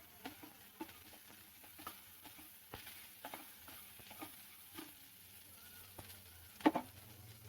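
Mixed chopped vegetables for a chutney sautéing together in a pan, a faint steady sizzle broken by scattered scrapes and clicks of stirring, with one sharper clatter near the end.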